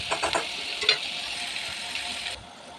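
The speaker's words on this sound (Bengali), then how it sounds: "এখন একটু ভাজতে দিব। পেঁয়াজগুলো নাড়াচাড়া করে হালকা হতে দিলাম।" Onions with garlic and ginger paste frying in a pan, a steady close sizzle with a few scraping stirs at the start before the hiss cuts down near the end.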